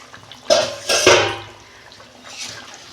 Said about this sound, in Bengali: দেখুন বন্ধুরা, ঢাকনা আমি খুলছি